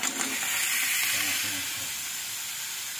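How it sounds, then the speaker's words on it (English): Clam shells and sliced tomatoes sautéing in a pan give a steady, close sizzling hiss that runs the whole time, loudest at the start and easing slightly toward the end, with no talking. "Saute it."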